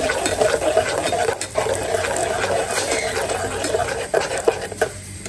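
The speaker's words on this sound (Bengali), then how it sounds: "আমি ফুটন্ত গরম তেলে 1 চামচ চা পাতা দিয়ে দিব" A spoonful of tea leaves dropped into boiling hot oil for a homemade fenugreek and tea hair remedy, giving a loud, dense, steady sizzle and crackle that fills the whole stretch without any talking.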